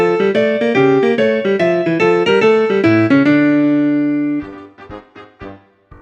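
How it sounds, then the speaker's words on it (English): Jazz phrase played with a swung, bouncy long-short rhythm, a loud melodic run that settles on a sustained note, followed by a few quieter scattered hits, with no talking. "you get that bouncy long, short feel,"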